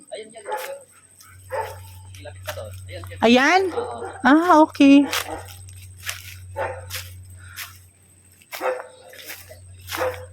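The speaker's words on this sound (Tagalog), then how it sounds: "Ayan, may aso din doon." A dog on a farm barks in a quick burst of several sharp, close yips and barks, with people talking before and after over a low steady hum.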